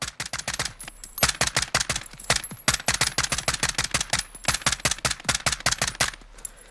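Rapid, loud gunfire from the MCX-MR rifle in Call of Duty Modern Warfare: a long run of sharp, evenly spaced cracks in quick bursts with tiny pauses between groups, heard close and alone.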